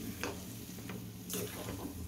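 Meat stirred into spice paste frying in a pan, with a soft low sizzle under several scraping spoon strokes, quiet and close, no speech.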